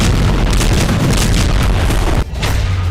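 Explosions on the Lebanon border heard as a loud, continuous rumbling boom filling the clip, with a short dip near the end before the heavy roar returns.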